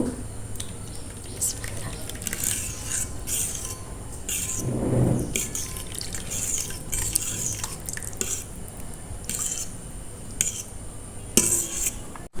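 Caramel pudding mixture is gently stirred in a bowl, with soft scraping and occasional clinks of a spoon against the dish running steadily throughout, close and fairly quiet.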